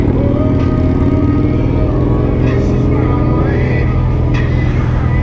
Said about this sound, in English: there goes grandma with the bike that she can't handle